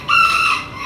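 A chicken gives one short, close cluck from inside a box, a single brief call with nothing else around it.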